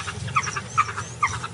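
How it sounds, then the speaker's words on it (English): African wild dogs from rival packs calling in high grass, with three sharp, squeaky yelps at roughly even intervals over a low rumbling background. "We found 7 wild dogs, and suddenly there was a lot of noise around us."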